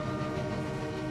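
A Pingxi Line train runs below between tunnels out of Ruifang, making a brief, steady, dense rumble that holds at an even level throughout.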